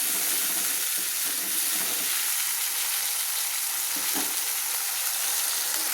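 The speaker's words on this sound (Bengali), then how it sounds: "পেস্ট করা আদা কাঁচা লঙ্কা আমি তেলের সঙ্গে কষিয়ে নিচ্ছি।" Ginger and green chilli paste frying in hot oil, a steady close sizzle with occasional stirring scrapes throughout, no voices.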